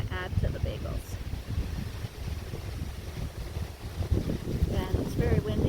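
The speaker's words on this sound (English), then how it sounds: "it's very windy, so we don't want our lunch to blow away." Strong wind buffets the microphone outdoors at Jones Creek Park, Mallorytown Landing, Ontario, during a hike, a steady low rumbling roar with gusts, while people talk over it.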